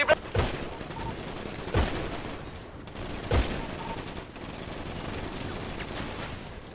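Gunfire in GTA V roleplay: three sharp, loud shots spaced about a second and a half apart over a steady game background, with no talk.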